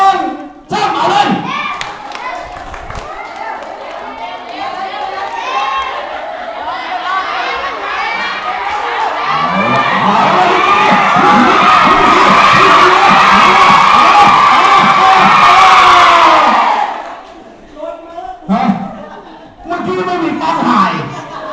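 Children cheering and shouting together at a school sports activity, a loud dense crowd roar that swells and holds for several seconds, with chatter and thumps around it, then fades as individual voices talk.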